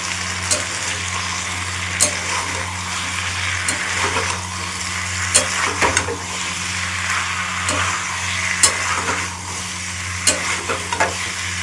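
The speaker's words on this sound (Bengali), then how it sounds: "পুরো মিশ্রণটাকে আমি ঢেলে দেব পুরো এবার নাড়াচাড়া করতে থাকি" A spoon stirs a vegetarian jackfruit curry mixture as it fries in a pan, soft sizzling under repeated scraping and sharp clinks of the spoon on the pan, close and steady with no talking.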